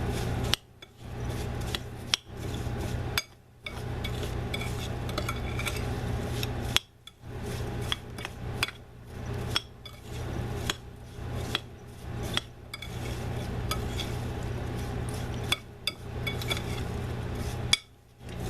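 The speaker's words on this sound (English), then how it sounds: "we're going to just mix this all together" A spoon stirs apple pie filling with brown sugar and a dash of salt in a bowl, giving repeated close clinks and scrapes in an uneven rhythm with brief pauses, and no talking.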